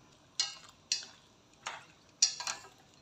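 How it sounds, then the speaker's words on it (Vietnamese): A spoon stirs seasoned dried shiitake mushroom stems with fresh milk, giving four or five sharp, close clicks against the bowl at uneven intervals, with quiet gaps between. "Sau khi nêm nếm gia vị trộn cho đều."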